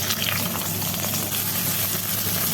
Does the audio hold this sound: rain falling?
no